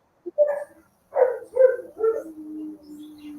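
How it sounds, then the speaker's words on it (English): Neighborhood dogs howling and yipping in a few short bursts, ending in one sustained steady howl, heard fairly close and alone. "The dogs are howling in my neighborhood."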